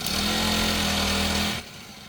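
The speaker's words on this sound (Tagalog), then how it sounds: "Palyato na yata yung grass cutter." A grass cutter's small engine drones loud and close with a steady buzzing tone, then cuts out abruptly near the end, leaving only quiet background.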